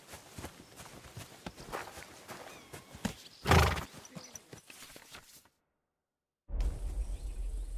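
In Kingdom Come Deliverance 2, a horse whinnies loudly midway while hooves clop in a steady walking rhythm nearby, then a second of silence before ambient noise resumes.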